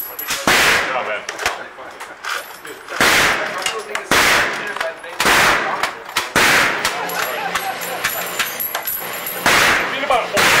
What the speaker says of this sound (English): With old machine guns, momentum once started is best kept.